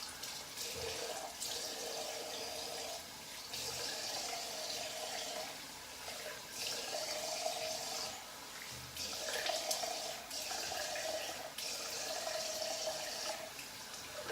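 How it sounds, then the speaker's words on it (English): Running water streams steadily from a tap as a razor is rinsed between passes of a head shave with a 9/8 custom ArtRazor, swelling and easing in a few surges, close and continuous with no talk. "Quick rinse."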